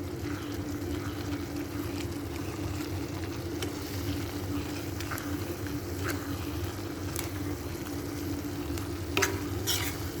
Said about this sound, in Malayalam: ഇനി ഇത് നല്ലതുപോലെ ഇളക്കി കൊടുക്കാം